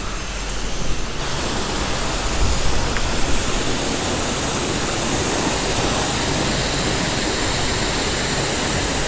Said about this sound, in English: your guys' pressure washers are weak